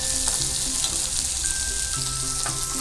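Chopped onion hitting a hot pan with cooking oil, a steady bright sizzle and frying hiss throughout with a few faint clinks, no talking.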